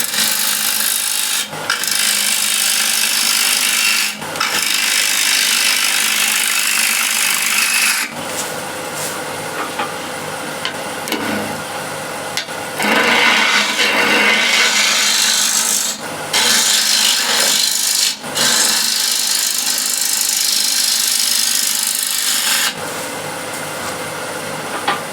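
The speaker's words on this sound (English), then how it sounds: "And now I can shape the top, and then we'll play around with veneer" Wooden disc vase spinning on a woodturning lathe as a gouge shapes its top, giving a steady loud rasping scrape in long passes broken by brief pauses, with no talk.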